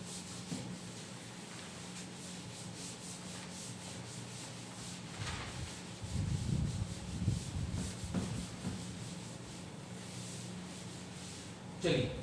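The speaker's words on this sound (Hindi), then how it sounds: "चलिए इसको रब कर दिया जाए" Rubbing and wiping strokes from a duster erasing a classroom board during a Class 12 maths lesson, a steady scrubbing texture that swells with bursts of firmer strokes midway, heard close and fairly quiet.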